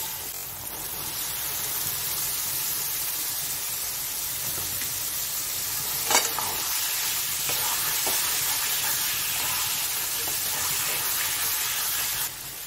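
Chickpeas going into hot oil with a spice paste of coriander and cumin for chana masala, sizzling and hissing steadily while a spoon stirs, with a brief louder scrape partway through.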